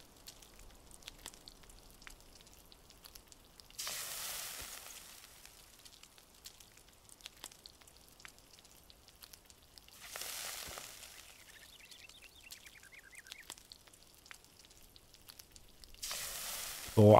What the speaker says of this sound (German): Rohes Fleisch nochmal hier mit rein. Das brutzeln wir jetzt noch schnell fertig.